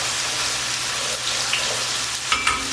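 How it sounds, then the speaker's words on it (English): Penne pasta stirred in a pot of boiling salted water: a steady bubbling, hissing wash with light scraping and clinks of the spoon near the end, close and continuous, no talk. "when you put the pasta in, give it a stir so it don't get stuck together."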